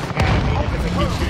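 A stun grenade goes off in a multiplayer shooter match: a short, loud, broadband blast that fills the whole moment, with a voice talking over it.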